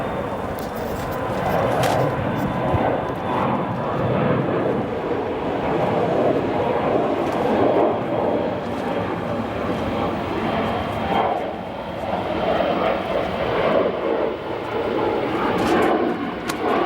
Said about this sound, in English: we'll go to a departing Embraer 170 headed to Traverse City,